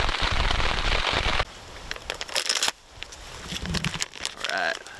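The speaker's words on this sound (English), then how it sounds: "hopefully it stops raining soon." Rain drums steadily on a tent during a camping trip in Algonquin, a dense close patter that drops suddenly to lighter, scattered drops and crinkly taps before swelling again.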